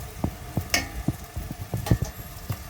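Hot oil sizzles and crackles steadily as lokma dough fries, with a series of soft thumps and clinks as it is stirred or turned in the pan.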